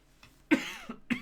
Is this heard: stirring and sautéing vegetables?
no